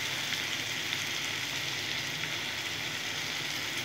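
Onions frying in oil give off a steady, close sizzling hiss that holds evenly throughout, with no talking.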